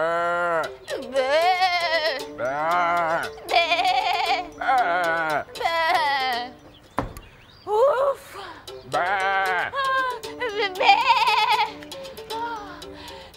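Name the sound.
sheep or goat bleating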